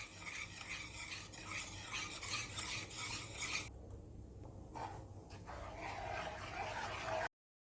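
Steady scraping and swishing of a spoon stirring a thick laddu sweet mixture in a pan over low heat, close up, with a brief pause partway through.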